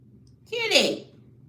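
A pet cat lets out a single meow, a short rising-then-falling call lasting about half a second, heard fairly close over a low constant background hum.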